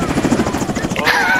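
A helicopter in Call of Duty Warzone beats with steady rotor thumps, loud and close, and a rising whine comes in near the end.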